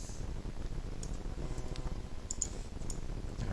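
Computer mouse clicks while working in 3D modeling software, several small sharp clicks scattered irregularly over a low steady background hum.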